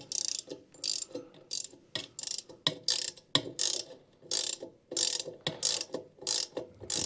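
Close, quiet ratchet clicking in rapid bursts as a 17mm socket tightens a fitting into the aluminum regulator of a Porter Cable C2002 6-gallon air compressor, repeated stroke after stroke with short pauses between.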